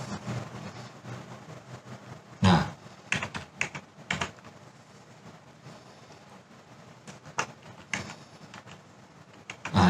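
Typing on a computer keyboard while working in a Microsoft Excel spreadsheet, with close, crisp key clicks in irregular clusters and a few sharper, louder keystrokes, and no talk.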